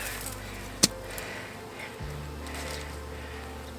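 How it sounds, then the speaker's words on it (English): A swarm of bees shaken from a cut tree limb gives off a low, steady hum that fills the background, with a sharp snap or thump near the start and a deeper drone rising about halfway through. "I'm going to actually cut the limb and then shake these bees in."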